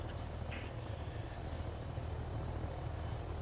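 A helicopter in the flight simulator Take on Helicopters, shaking and close to crashing with its throttle in the red: a steady, loud rotor and engine drone with heavy low rumble, running unbroken throughout with no talk.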